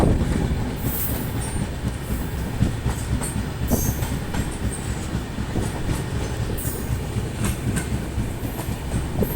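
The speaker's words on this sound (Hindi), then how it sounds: "राधिकापुर से आनंद विहार के लिए बीच में चलने वाली ट्रेन है कोई।" Loud, close passenger train rolling past on an Indian railway, a steady rumbling roar with rhythmic clickety-clack of wheels over rail joints and occasional squeals throughout, with no voices.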